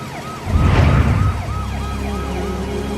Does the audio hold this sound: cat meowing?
no